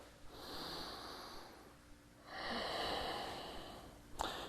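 Slow, controlled breathing during a yoga core workout: a long, audible inhale through the nose, a pause, then a long, forceful exhale, ending in a short sharp puff. Close and quiet, with no talk.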